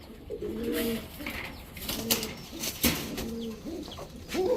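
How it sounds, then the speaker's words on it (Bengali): Pigeons from a loft of two pairs kept for long flights, including a red-haired male and its female, cooing in repeated low rolling calls that overlap, with a few sharp clicks and scuffles in between. "এই হচ্ছে টোটাল 2 জোড়া কবুতর"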